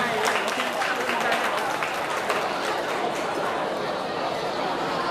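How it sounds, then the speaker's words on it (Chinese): At a cosplay competition awards ceremony, a crowd claps in welcome, a moderately loud, steady patter of applause mixed with chatter from the audience. "现场的掌声，我们欢迎厨子老师"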